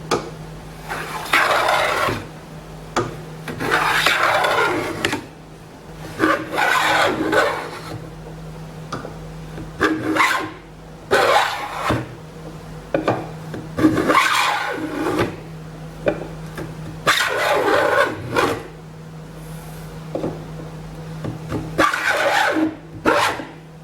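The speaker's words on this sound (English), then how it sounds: "I'm actually going to start cutting a dovetail with the bottom edge of the blade" A hand plane cuts a sliding dovetail along a timber board, giving repeated long rasping strokes with short pauses between passes, steady and close.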